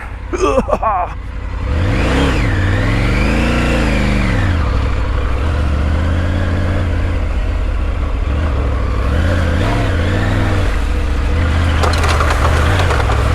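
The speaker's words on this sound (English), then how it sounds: "I think we're trying a mud bog right now. Let's see how good these battle axe tires really are." Dirt motorcycle on battle axe tires pushing through a mud bog, engine revving and straining up and down in loud swells close by, with a short knocking sound at the start and no talk.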